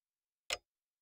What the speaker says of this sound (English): The monotonous ticking of the clock